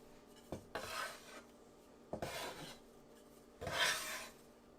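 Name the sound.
bench scraper scraping sweet potato gnocchi dough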